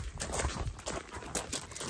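A horse walks along, its hooves clopping in a steady uneven rhythm close by, fairly loud against an outdoor background, with no voices.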